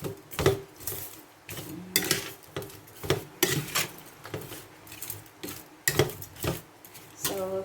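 Spicy paksiw na tawilis fish mixture being stirred in a bowl with a utensil, giving repeated close clinks and scrapes in an irregular rhythm.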